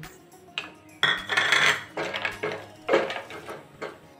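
Peanuts and chana dal tossed into hot oil in a kadai on a stove, giving scattered sharp clinks, rattles and crackling bursts of frying, fairly close and moderately quiet.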